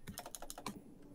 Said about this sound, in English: Let me test that you can't hear my keyboard.